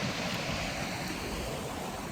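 A snowy creek's water flows steadily, producing a dense, even rushing wash that stays loud and unchanging throughout, with no voices.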